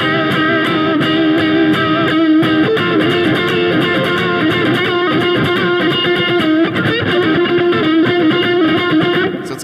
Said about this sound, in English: we've made it to the second guitar solo